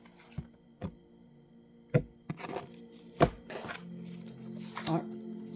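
A deck of oracle cards is cut and handled on a table, giving a few sharp close taps and shuffling clicks spread out over quiet room noise, with soft talk underneath.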